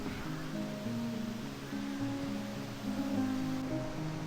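Water rushes in a steady broadband wash from the Munsadong valley waterfall and stream near a quiet temple, a constant hiss with faint tonal hum underneath.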